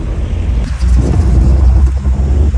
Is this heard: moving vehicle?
yes